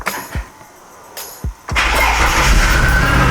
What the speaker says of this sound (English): I reckon 1 rotation of the starter motor and it fired right up